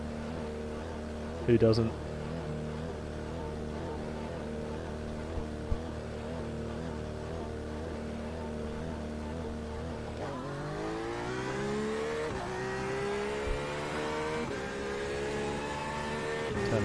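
Car doing burnouts at Le Mans: a steady, droning engine note that climbs sharply in pitch partway through as the revs rise, with a voice talking over it.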